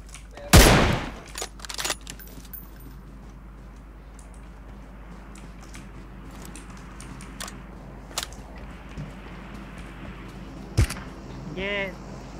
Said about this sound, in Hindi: ये पीछे से कोई फायर कर रहा है।